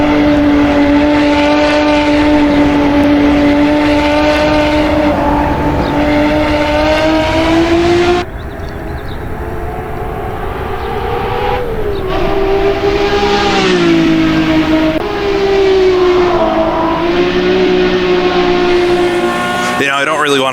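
A 1960s sportscar engine in the Assetto Corsa racing game revs hard and loud, pitch climbing through gears with sharp drops at shifts and downshifts, someone talking over it.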